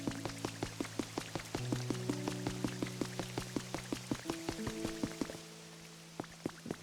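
Rain pattering steadily in the video game Pokémon Pokopia, with dense dripping taps over soft game music tones, fairly quiet throughout and thinning toward the end.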